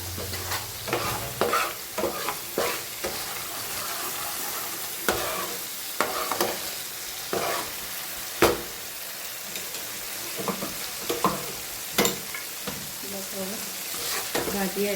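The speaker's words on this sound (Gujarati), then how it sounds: "બસ આ ગેસની ફ્લેમ ધીમી કરીને થોડીક વાર ચટણીને પાકવા દઈએ." Chutney cooks over a low gas flame in a pan, a steady soft sizzle broken by repeated scraping, clattering stirs from a spoon, close and fairly quiet with no voices.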